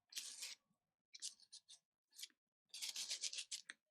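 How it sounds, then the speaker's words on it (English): Texture paste is scraped level across a stencil in four soft, dry rasping strokes with brief pauses between them, close and quiet, ending in a longer drawn-out scrape. "I'm scraping this off level with the stencil"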